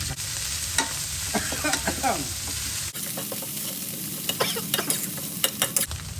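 Garlic, chili and curry paste stir-fry in a hot pan for a Thai spicy catfish dish, with a steady close sizzle broken by repeated scraping and stirring clatter.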